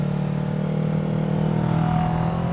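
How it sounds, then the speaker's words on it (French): A motorcycle ridden hard on a road, its engine droning steadily at mid revs with a slight rise in pitch, loud and continuous with wind noise and no voices. "C'est vraiment une moto qui est excellente."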